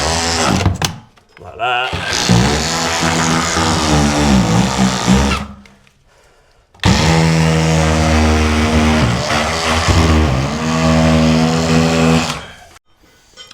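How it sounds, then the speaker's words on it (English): Makita drywall saw (multi-tool) cutting through a drywall ceiling during a replacement job, a loud, steady motor buzz running in two long bursts with a short gap between them, with a brief spoken remark. "So I'm gonna get my multi-tool and I'm gonna run it."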